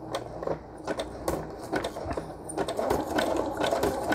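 A sewing machine stitches a long zigzag seam on a padded paper envelope, a steady mechanical whirring and rapid clattering running continuously and fairly close, with no voices.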